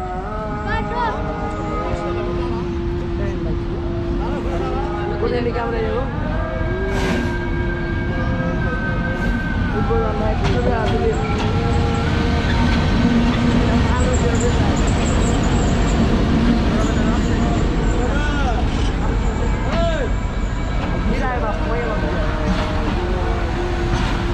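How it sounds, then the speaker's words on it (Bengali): Trains at Amnura Railway Junction, with the Rajshahi Commuter and another train standing side by side, give a continuous loud rumble and clatter, with voices talking over it throughout. "বাম পাশে দাঁড়িয়ে আয়ার ট্রেন আর ডান পাশে রাজশাহী কমিউটার"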